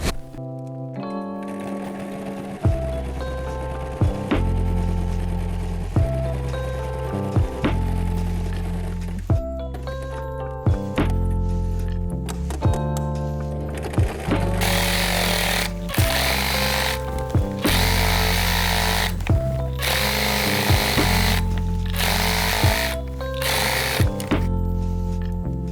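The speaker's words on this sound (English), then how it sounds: "I'm gonna sew this and sew this around it." Sewing machine stitching felt Santa legs for a Christmas decoration, a loud steady mechanical hum and rapid needle chatter running almost continuously, with brief pauses and a few louder thunks.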